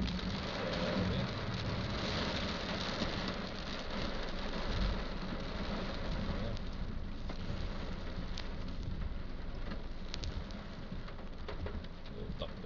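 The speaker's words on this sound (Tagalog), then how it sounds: "Laging ulan, lakas eh." Heavy rain pours down in a dense, constant hiss, with a low rumble of thunder underneath and a faint bird call.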